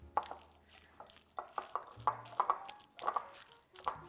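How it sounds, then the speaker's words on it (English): Plant-based not-chicken salad with sunflower seeds being stirred in a bowl, giving soft wet squishes and light clicks of the spoon in an irregular rhythm, close and quiet with no talking. "Now we just mix it up."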